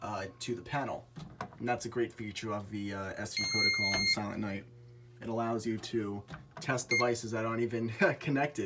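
A Silent Knight fire alarm control panel beeps in repeated short electronic tones while someone talks steadily over them.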